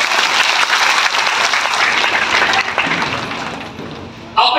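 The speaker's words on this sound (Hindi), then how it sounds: "एक बार पत्रकारों के लिए आप लोग सब ताली" An audience at a council oath-taking ceremony in Mauganj applauds journalists, with dense sustained clapping that thins toward the end before a brief sharper burst.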